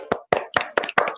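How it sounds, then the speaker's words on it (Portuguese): Several bursts of hand clapping, thin and slightly compressed as if coming through a video call, forming short uneven rounds of applause with no voices, at an online book launch. "nós vamos parabenizar o autor com uma salva de palmas"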